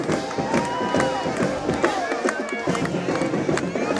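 Travelling Mustang football crowd cheering in a stadium during a high school game, a dense continuous roar with whistles and shouts, and a commentator talking over it.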